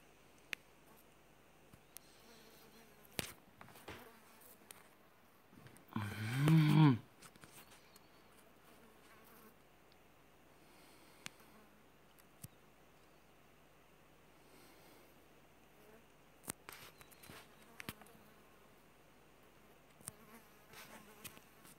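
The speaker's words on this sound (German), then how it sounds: "ich habe gerade versucht, die Fliege zu töten" A fly buzzing close by during a Last Day on Earth game, one brief burst standing out from a faint, quiet background with scattered clicks.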